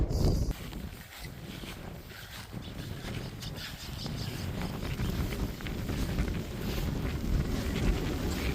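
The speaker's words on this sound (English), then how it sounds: "it's a little windy. Like I have my tent up. It's blowing it around" Wind gusts steadily across a mountain meadow on the Pacific Crest Trail, buffeting a pitched tent and the microphone with a loud, continuous roar and flapping.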